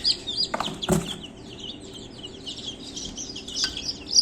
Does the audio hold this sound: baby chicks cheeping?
yes